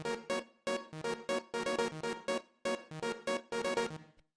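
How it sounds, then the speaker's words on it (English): A synth pattern loop of short, stabby chords with a sampled, organic character plays alone, repeating in a bouncy rhythm of tight staccato hits with brief gaps, clear and close. "the first sound we've got going on here is this little synth pattern loop thing that I made"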